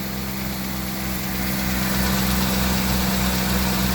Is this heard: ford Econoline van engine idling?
yes